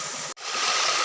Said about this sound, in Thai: มีน้ำไหล